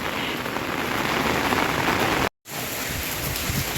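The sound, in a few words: heavy rain falling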